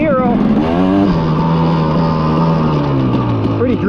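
A motocross dirt bike rides around the BUMP track, its engine droning loudly and steadily with pitch sweeps as it shifts and revs, under wind rush throughout.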